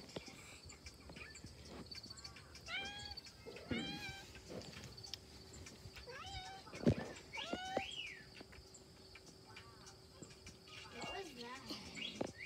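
A house cat meows several times in short rising calls scattered over a dozen seconds, fairly faint against a noisy background with a steady hum.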